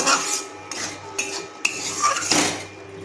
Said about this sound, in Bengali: আমি এবার কড়াই থেকে তুলে নিচ্ছি